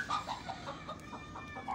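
Several Misri, Desi and Aseel hens cluck in short repeated bursts close by while feeding, with a busy, noisy farmyard background and no talking.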